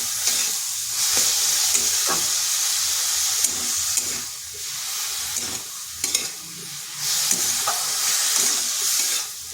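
Cabbage cooked with salt, turmeric, cumin, coriander and chili powder is stirred in a pan, giving a steady sizzle with a bright hiss and repeated scraping knocks of the spoon at irregular intervals.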